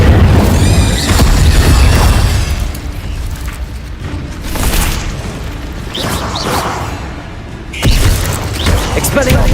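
Spell effects in Hogwarts Legacy, loud booming blasts and whooshing magical bursts that repeat with swells and crashes. Spoken incantations come in between.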